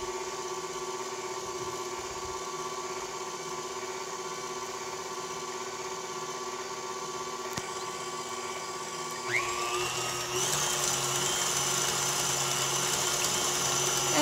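An electric whisk or mixer whirs steadily through a flan mixture of custard and butter, a close, constant mechanical hum that shifts to a brighter, higher whine partway through.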